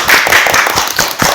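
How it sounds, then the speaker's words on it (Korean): Short burst of audience clapping closing a high-school broadcast club's interview segment, dense and steady for the full moment, with no talk over it. "박수 치고 마무리할까요?"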